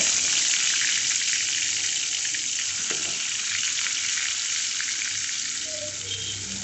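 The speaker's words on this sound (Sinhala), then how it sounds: "මම ඒකෙන් ඉඟුරු සුදු ලුණු ටික ඉස්සෙල්ලම දානවා පෙරට" Ginger garlic paste hitting hot oil in a pan, giving a loud, dense, continuous sizzle up close that barely changes over several seconds, with no voices.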